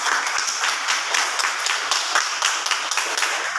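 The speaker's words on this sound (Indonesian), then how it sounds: "Oh, tepuk tangan semuanya." Students in a classroom give a burst of applause, brisk and even clapping from many hands at close range lasting a few seconds.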